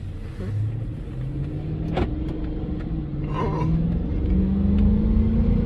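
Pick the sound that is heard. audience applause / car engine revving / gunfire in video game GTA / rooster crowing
car engine revving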